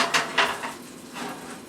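Metal utensils scrape and clink against a skillet as Southern fried chicken is dished out, a few quick knocks near the start followed by softer scraping, close and fairly loud with no talking.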